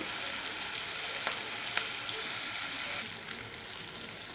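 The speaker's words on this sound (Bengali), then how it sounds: "দেখুন ভালো করে ভেজে নেব, হালকা ভাজলেই চলবে।" Quiet, steady sizzle of frying for aloo puri in a pan, with a couple of light clinks, no talking.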